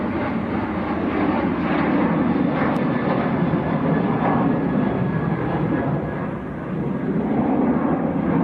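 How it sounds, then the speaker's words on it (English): A Ryanair jet departing Manchester Airport for Oslo makes a sustained, loud engine roar that holds steady, dips briefly, then swells again, with no one talking. "That is a Ryanair to Oslo."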